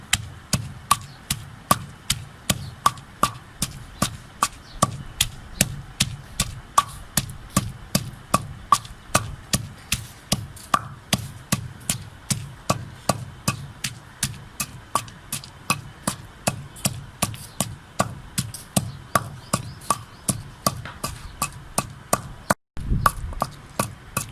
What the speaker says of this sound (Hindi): 2 सब्ज़ मिर्चें, 2 के वे भी आप इसमें शामिल कर लें। इसे आप अच्छी तरह कूट लें।